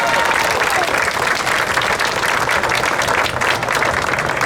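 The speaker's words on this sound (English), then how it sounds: "Let's give them a big round of applause." An audience gives a big round of applause at a donor thank-you during a fountain event, with loud, continuous clapping from a crowd that fills the whole stretch at an even level.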